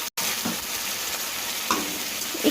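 Onions fry in a pan for mutton kosha, a dense, even sizzle throughout with a few faint stirring knocks and a brief dropout at the start.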